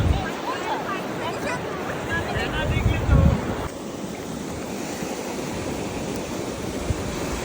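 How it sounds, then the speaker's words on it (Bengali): Sea waves wash onto a beach in England, a steady broadband rush of surf mixed with gusty wind buffeting the microphone, swelling briefly louder near the middle before settling into a constant roar. "সমুদ্রে যাওয়ার পরে আমার এই আওয়াজটা শুনতে যে কি যে ভালো লাগে"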